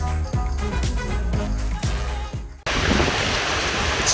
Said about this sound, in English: It's raining cats and dogs here in PJ.